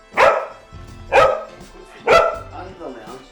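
A dog barks three times in quick succession from under a lounge indoors, loud and close, with a small whimpering yip trailing after the last bark.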